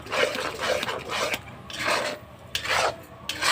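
Beet paste with turmeric is stir-fried in a pan, a spatula scraping and rasping across the metal in a series of close, rhythmic strokes with short pauses between them.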